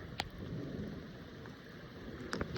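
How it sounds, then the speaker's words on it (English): Heavy rain pouring down steadily outdoors, a dense even hiss with a few brief louder taps near the start and end. "It's pouring down rain, so that sucks."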